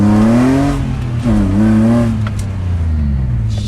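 A BMW E30 fitted with an S52 engine revs hard and accelerates through the gears, a loud rising engine note climbing, dropping at a shift, then climbing again, heard from inside the car.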